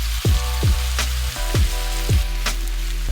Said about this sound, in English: Begin to stir fry the bok choy with the garlic, and then top with the remaining salt.